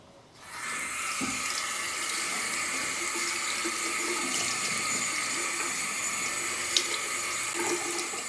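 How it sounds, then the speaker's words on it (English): Steady running water pours from a tap while a motorcycle's foam air filter, from a Suzuki DL650 V-Strom, is rinsed under it; a continuous, close splashing hiss with no talking. "Having washed our air filter"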